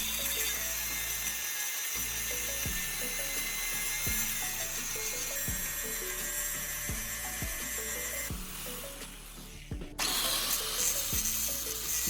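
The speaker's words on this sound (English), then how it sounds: "I secure in the vise and use the angle grinder to meticulously sharpen the unthreaded end into a fine" An angle grinder sharpens the unthreaded end of a bolt clamped in a vise, giving a loud, steady high-pitched grinding whine with regular low knocks underneath and a brief dip and change in tone near the end.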